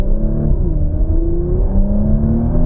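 Porsche Macan Turbo with a 2.9-litre V6 engine drives steadily, its engine note droning and rising in pitch as it pulls, with road and tyre rumble underneath; no talk.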